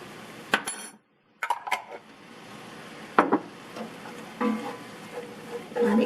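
Garlic sizzles and crackles in a hot pan while it is stirred, with spoon scrapes and sharp clinks against the pan in short bursts, a brief quiet gap, and steady frying underneath.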